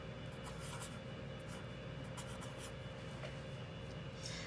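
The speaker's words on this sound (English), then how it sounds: "Let's write that first" Soft scratchy strokes of numbers being handwritten, short bursts of pen or pencil scraping in an uneven rhythm over a faint steady background hum.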